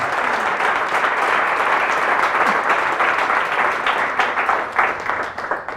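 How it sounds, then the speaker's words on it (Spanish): A church congregation applauds loudly and steadily for the Lord during a Holy Tuesday Mass, a dense continuous wash of many hands clapping that tapers slightly near the end. "Fuertes aplausos al Señor y Salvador Jesucristo."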